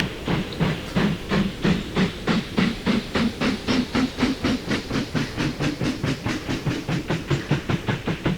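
A steam locomotive in the Mashinky game pulls away with steady, rapid chuffs of exhaust hiss over a low rumbling drone, loud and close, the rhythm holding even throughout with no talk.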